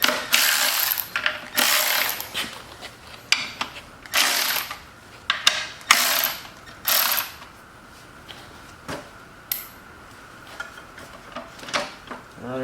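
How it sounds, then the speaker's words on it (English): Screws being loosened on the cover of an antique Lawnboy edger, a run of sharp ratcheting clicks and metallic clatters in irregular bursts, close and fairly loud with no talk. "Let me try loosening the screws up and pulling up on the cover a little bit."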